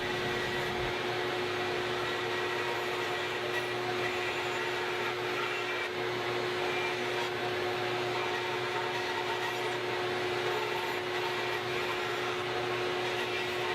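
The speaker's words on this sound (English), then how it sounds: "we trim away the waste at the bandsaw" A bandsaw runs steadily while trimming waste from a rosewood acoustic guitar bridge, giving a constant whirring hum with a fixed tone and an even wash of noise throughout, with no distinct cutting bursts.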